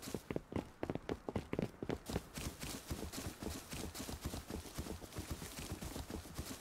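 Horse hooves clop along in the Rust video game, a steady run of close, crisp hoof strikes on the ground with no talking.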